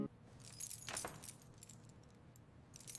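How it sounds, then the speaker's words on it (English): A bunch of keys jingles and clinks in short metallic bursts close by, with a louder shake near the middle and quieter rattles after it, and no voices. "I check my keys."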